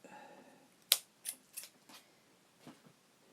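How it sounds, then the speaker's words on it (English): Scissors snip crochet yarn on a Christmas ornament: a sharp click followed by a few lighter, quieter snips spread over about two seconds, close up and otherwise quiet. "And then I'm going to find my scissors here"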